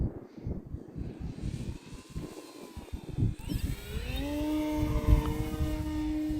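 An Arrows Husky Ultimate RC airplane with flaps lowered one notch makes a slow low pass on an evening flight, its electric motor droning steadily and rising in pitch as it draws nearer, with wind noise throughout.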